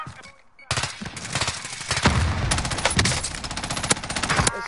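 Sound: gunfire in a video game

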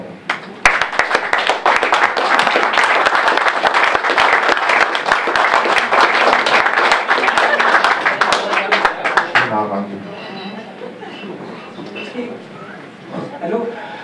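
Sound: audience applause at charity event

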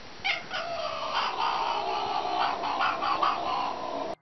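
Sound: cat making a gargling sound

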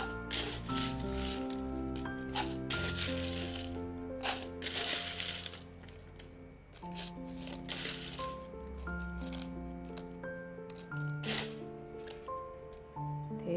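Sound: ice cubes rattling into a cup

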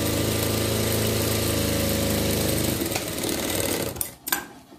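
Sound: sewing machine stitching a skirt for a Shih Tzu dress

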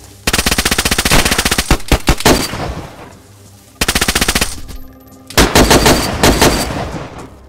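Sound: gunfire in the video game DayZ

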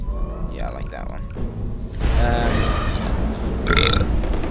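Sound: burp

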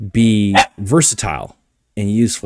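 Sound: dog barking

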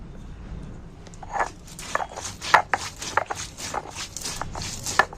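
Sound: grinding coriander, fennel and cumin spices on a grinding stone

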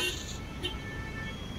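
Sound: added traffic sound effect with car horns over drone footage

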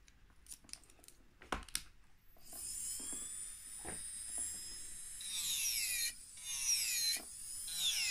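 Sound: nail drill with Swarovski crystal shaping bit filing nail

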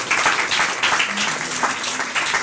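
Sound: applause

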